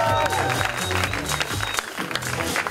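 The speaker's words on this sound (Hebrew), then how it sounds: "כפיים." An audience at an end-of-year event for an industrial engineering program claps after names are read out, the applause mixed with music and crowd noise.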